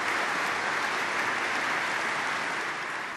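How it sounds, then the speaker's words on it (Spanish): Dense applause from a church audience, begun by nuns, after a papal homily on a trip to Budapest and Slovakia, a steady, even roar of many hands clapping throughout. "El aplauso lo iniciaron las religiosas, que son las víctimas de nuestras homilías."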